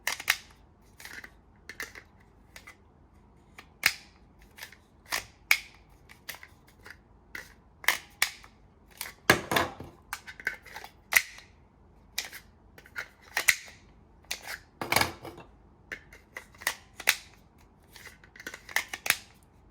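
A Glock 48/43X fitted with a Shield Arms S15 magazine is racked and clicked repeatedly, gritty slide action producing sharp metallic snaps and clacks at an irregular pace, close and crisp with quiet gaps between.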